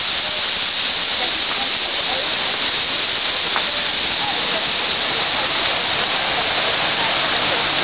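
A loud, constant roar of rushing water pours down at Whatcom Falls in Bellingham, broad and hissing, filling the whole clip.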